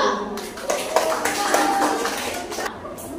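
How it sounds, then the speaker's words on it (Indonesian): Classroom applause for group 1, a crowd of hands clapping continuously and fairly loudly throughout, with some voices under the clapping. "Tepuk tangan kelompok 1."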